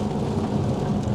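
Steady rain drums on a car during a rainy drive, a dense, continuous hiss and low rumble up close, with no voices.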